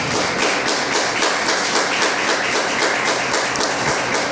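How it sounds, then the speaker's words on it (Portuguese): A church congregation applauds together, dense continuous clapping filling the room evenly for several seconds with no speech over it. "Aplauda Jesus."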